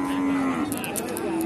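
Cow and calf lowing at a busy cattle market, one long sustained moo running through the clip with a second voice near the end, over constant crowd murmur.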